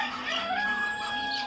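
Egyptian Fayoumi chickens, about one month old, cluck and call nearby in a short, busy burst of overlapping clucks with no talking.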